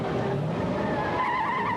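A stunt car, a period gangster or police car refitted with a modern engine and transmission for a film shoot, skids with a rising tire squeal over a loud engine roar in one short, continuous burst.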